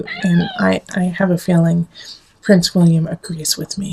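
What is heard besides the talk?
pet cat meowing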